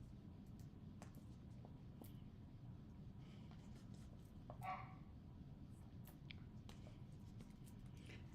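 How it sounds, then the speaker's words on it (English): A dog barks faintly from another room in scattered short yips over a low steady hum, with light tapping and rustling from nearby craft work. "I can hear her barking from in here."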